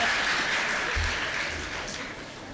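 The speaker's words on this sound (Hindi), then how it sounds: "तालियां शायद बजनी चाहिए थी।" Audience applause at a Hindi poetry recitation event, a steady broad wash of clapping at moderate level that slowly fades over a couple of seconds.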